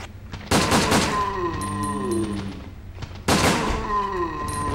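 Gunfire in the PS2 game Resident Evil Dead Aim: two loud bursts of shots, each with a broadband blast followed by ringing, whining tones and echoing decay, with no talk.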